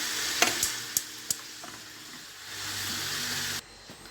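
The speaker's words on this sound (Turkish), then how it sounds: "Hanımlar bu şekilde alt üst ediyorum." A zucchini dish stirred in a pan, a few sharp scrapes and clinks of the utensil over a continuous soft sizzle, close, with no talk.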